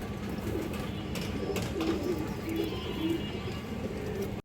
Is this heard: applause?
no